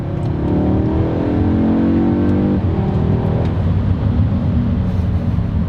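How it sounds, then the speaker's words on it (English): A 2023 Audi S3 engine rumbles loudly from inside the cabin, its pitch dropping after a downshift with some low pops and burbles from the exhaust. "it's like a little tiny thunderstorm in the back when you downshift it in just the right spot"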